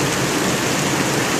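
Heavy downpour pours steadily onto a flooded street, a dense, loud, unbroken hiss of rain with no voices.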